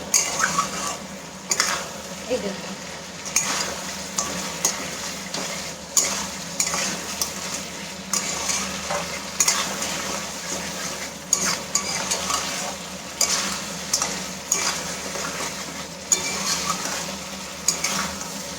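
Spicy sea crab masala is stir-fried in a pan. A spatula scrapes and knocks in a steady repeating rhythm over a low frying sizzle, close and fairly loud for the whole stretch.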